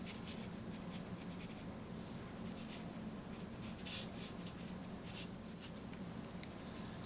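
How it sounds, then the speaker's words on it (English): Soft, continuous brushing and rubbing of a paintbrush blending watercolor ink on paper, a close, steady scratchy texture with faint low hum underneath and no speech. "as I start blending"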